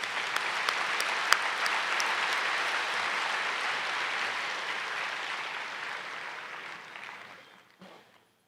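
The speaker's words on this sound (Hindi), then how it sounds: "आप सब शाबाश की एक ताली बजा दो" An audience claps steadily for several seconds at a spiritual talk, the applause holding dense and even before tapering off toward the end.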